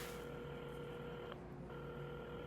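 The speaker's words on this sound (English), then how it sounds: "had started dialing the phone." A telephone is dialed in the puzzle video game Assemble With Care, heard as steady electronic tones that hold, break off briefly and then resume, quiet and alone with no voices.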